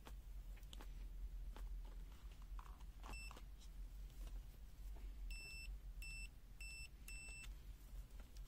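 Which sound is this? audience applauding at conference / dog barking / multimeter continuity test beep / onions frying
multimeter continuity test beep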